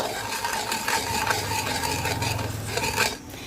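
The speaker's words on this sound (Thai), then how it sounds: "เสร็จแล้วก็คนส่วนผสมให้มันเข้ากัน" Oyster sauce mixture for Hong Kong kale being stirred in a pot: a steady close scraping and swirling with light metallic clinks and a faint sizzle underneath, easing off at the end.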